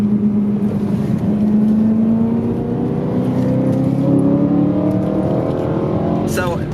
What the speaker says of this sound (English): So this engine in this car is incredible.